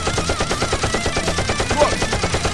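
Rapid, evenly spaced automatic gunfire in a Nerf war shooting video game, a loud steady burst of repeated shots running continuously with faint voices beneath it.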